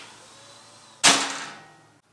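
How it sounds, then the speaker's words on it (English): A center punch is struck once on old rivets in the steel sickle bar of a Ventrac boom mower, giving a single sharp metallic strike that rings out and fades over about a second, with no talk. "I'm gonna center punch right here on these old rivets"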